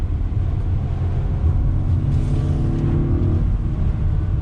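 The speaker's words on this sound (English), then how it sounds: "Great sound coming from the engine" The engine of a 2019 Acura RDX A-Spec SUV hums under throttle as the transmission shifts, a steady, muffled low drone heard from inside the cabin that swells gently partway through.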